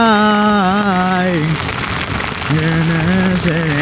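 Heavy rain pours down during a solo motorcycle ride on a long trip out of Manila, a loud, dense hiss. A sung melody plays over it, drops out briefly and then returns.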